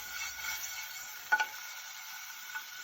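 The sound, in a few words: minced garlic sautéing in a pan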